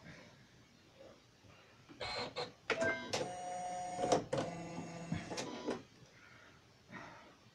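An embroidery machine stitching a bedside coaster in the hoop gives a close, rapid mechanical whirring and clatter in a few bursts over several seconds, with quiet talk around it.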